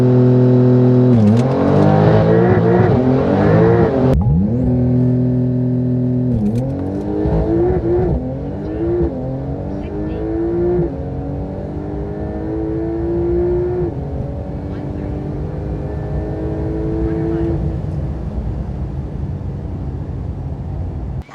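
A 1,000 HP Porsche Turbo S accelerates hard from a launch, its loud engine roaring through rising, repeating gear pulls with brief shift dips, heard close and continuously for about twenty seconds.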